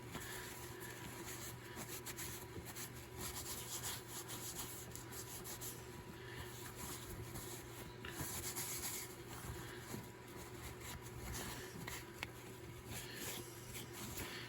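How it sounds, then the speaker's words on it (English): Paper towel rubbed over a leather knife sheath to wipe off excess conditioner, a steady soft scrubbing and rubbing close up, quiet and continuous, with no speech. "Take our paper towel and wipe off the excess."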